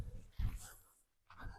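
A dog out on an off-leash training walk in dense Florida Everglades brush, with close, soft growly breathing and rustling in two short bursts separated by a quiet gap.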